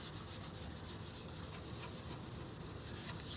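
A 400-grit sanding block rubs steadily over UV primer in a continuous close, faint scratchy hiss with quick back-and-forth strokes and no talk.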